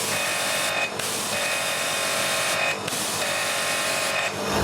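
An Annovi Reverberi pressure washer pump runs at about 1000 PSI after a repair. It gives a loud, continuous mechanical hum and hiss, with brief regular dips in the noise about every two seconds.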